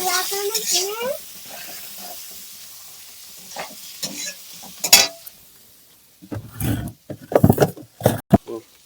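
Spices sautéed with cumin powder and a splash of water in a pan, a sizzle with intermittent scraping and louder bursts of spatula clatter near the end, with a voice briefly at the start.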